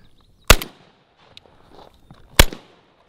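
A rusty Remington 870 pump shotgun fires two loud, sharp blasts about two seconds apart outdoors, each followed by a short decaying echo, with faint movement sounds in between.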